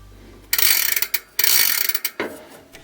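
Bicycle freehub body ratchet clicking rapidly as the wheel spins freely after replacement, sounding healthy; two close, loud bursts of fast ticking that slow and fade, with a brief third spin near the end.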